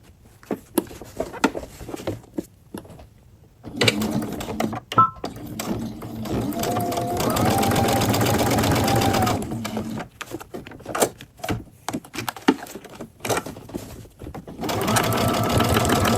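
A sewing machine stitches a seam on a stylish beginner's bag, its needle clattering in steady runs that stop and restart between short pauses.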